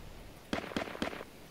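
Rocket launcher blasts in a video game: three quick booming bursts, evenly spaced about a quarter second apart, close and punchy over a low background.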